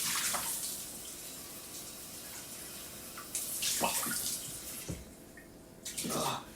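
Water runs from a tap with a steady splashing rush, rising and falling in bursts, heard fairly close with no talking.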